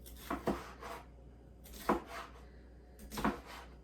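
A knife cuts the bad part off a vegetable in three separate bursts of chopping, each a quick cluster of crisp strikes on the board, close and fairly quiet.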